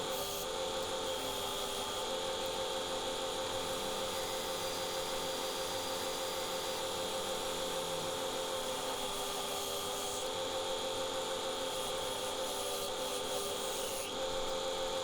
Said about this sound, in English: So where I can, I'm using my bowl gouge rather than the carbide, and it was turning really nicely through that sycamore.